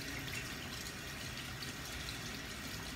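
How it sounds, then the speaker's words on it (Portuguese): Cold tap water runs steadily as makeup brushes are rinsed under it, a soft continuous splashing hiss without speech. "Eu lavo sempre com água fria, eu não lavo com água quente."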